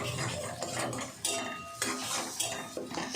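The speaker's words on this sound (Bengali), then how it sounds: "একটা কড়াই বসিয়ে আমি ডিমটাকে ভালো করে নেড়ে চেড়ে ভেজে নেব" Egg is stirred and fried in a kadai, with a spatula scraping and clinking busily against the metal pan over a low background rumble.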